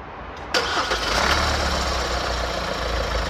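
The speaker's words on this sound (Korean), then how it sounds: "시동 걸으세요." A car with about 100,000 km on it, in a repair shop during an engine oil service, cranks and starts with a sudden loud burst, then settles into a steady, rough, close-up idle rumble.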